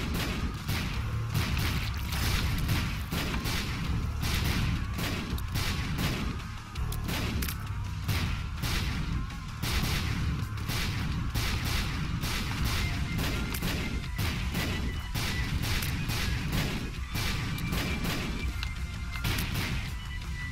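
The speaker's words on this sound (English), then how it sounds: "The ground's pretty much Explosion City here" Explosions in The Binding of Isaac: Afterbirth+ blast and crash almost nonstop, a dense, loud barrage of overlapping booms and impacts with no pause, against busy game sounds.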